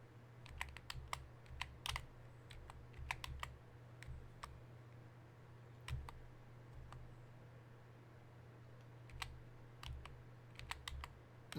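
Keys clack on a computer keyboard during computer gameplay, irregular bursts of quick taps and single presses separated by pauses, close and fairly quiet over a low steady hum.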